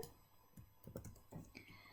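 Quiet clicks of typing on a computer keyboard, a handful of keystrokes in an irregular rhythm with no talking.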